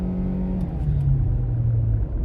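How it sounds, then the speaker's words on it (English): Kia Forte car engine in sport mode, revving with a steady low rumble whose pitch rises and shifts through a short sustained run, close and continuous with no talking. "I'm gonna put it in sport mode right now though, so we'll hear it rev a little bit higher"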